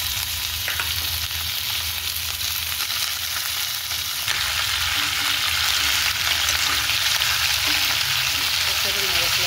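Chicken fries in a pan with carom seeds and fenugreek, a loud, steady sizzle and crackle that carries on unbroken, with faint stirring scrapes now and then.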